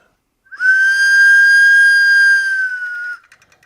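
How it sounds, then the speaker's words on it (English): A 1980s Faber toy whistle with little racing cars, made in Germany, gives one loud, steady, pure high tone lasting about two and a half seconds, then fades with a faint rattle. "This one, for instance, one of a series made by a German company Faber in the 1980s, whistles"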